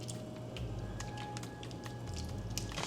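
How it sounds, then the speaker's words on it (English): Beaten egg poured onto a pan over seasoned meal-prep ingredients, a soft continuous wet squishing and pattering close up, with faint sizzling throughout and no talk. "let's pour the egg onto it"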